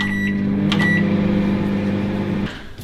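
A microwave oven hums loudly and steadily while running, with a couple of brief clicks and clatters partway through before the drone cuts off near the end.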